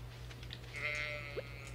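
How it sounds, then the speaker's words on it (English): A sheep bleats once in the farming video game Stardew Valley, a short wavering call over a steady low background hum with no talk. "Look at this sheep."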